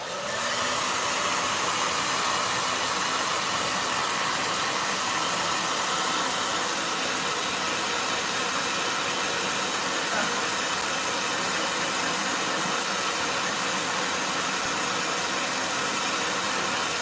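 A blow dryer runs nonstop during a painting session, its loud, even whoosh lasting the entire stretch with no pauses.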